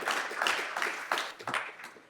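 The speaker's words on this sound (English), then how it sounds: "please just join me in giving a short round of applause to celebrate that recent news" A short burst of audience clapping at the LSI Europe '23 conference, a brief round of hands from a seated crowd, fairly close and moderately loud, fading near the end.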